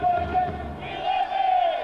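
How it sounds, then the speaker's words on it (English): Large stadium crowd at an FC Tulsa soccer match on a night of record ticket sales, a sustained roar with shouting and chanting voices rising and falling throughout. "Good crowd in tonight."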